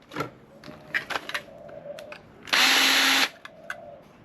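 A power drill or driver backs screws out of an aluminium shield on a scrapped server's copper part, a loud steady whir for about a second amid scattered clicks and handling knocks, with no talking.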